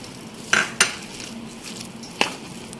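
A spoon mixes egg into shami kabab mixture in a bowl, giving three sharp, close clinks against the bowl over a quiet background hum, with no speech.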